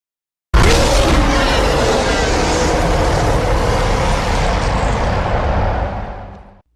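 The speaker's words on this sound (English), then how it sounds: "which was answered by another huge roar from none other than Kong." King Kong gives a huge roar in a Skull Island audio drama, a massive, rumbling, full-bodied bellow that bursts in suddenly and holds loud for about six seconds before fading away.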